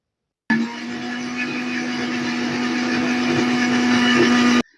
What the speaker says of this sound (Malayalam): മിക്സിയിൽ നൈസായിട്ട് അരച്ചെടുക്കണം